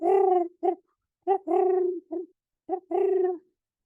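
A moorhen calling nearby, a series of short and drawn-out hollow, tonal calls with clear gaps between them, close and alone with no other sound.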